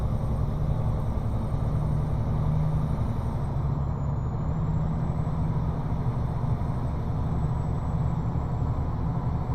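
Heavy American truck engine droning steadily in a truck driving simulator game, a continuous low rumble with a brief hiss partway through, no talking.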